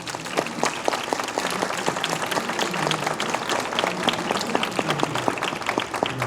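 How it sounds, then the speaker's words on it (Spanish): An audience at a book launch at the FILBO book fair in Bogotá gives a hearty round of applause, with steady, dense clapping from a medium-sized crowd lasting throughout. "yo solicito al público un fuerte aplauso para ellos"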